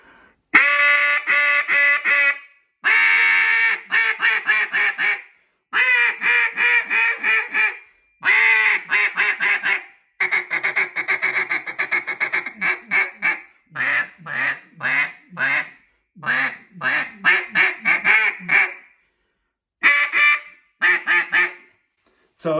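A wooden or acrylic duck call blown in repeated quacking sequences, loud and close, with bursts of varying length separated by short pauses and a few single sharp quacks near the end.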